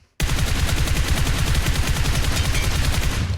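Sustained automatic gunfire in PUBG Mobile, a loud, close, steady stream of rapid shots that starts abruptly and runs unbroken for about three seconds before cutting off.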